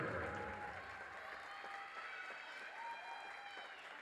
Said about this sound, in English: one more round of applause for number 16, Kylie Oldenburger